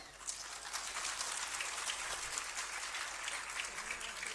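Soft, fairly distant applause from an audience at a talent hunt quiz program at the Arts Council in Karachi, a steady hiss-like patter of many hands with no voices over it.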